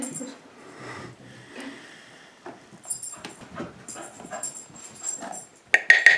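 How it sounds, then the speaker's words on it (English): A lively puppy pants and sniffs in a home kitchen while her collar tags jingle faintly, with short breathy huffs and a few whimpers scattered through, ending in a brief louder jingle-like burst near the microphone. "And that jingling you hear in the background is Alice, who is a constant terror but a lovable dog."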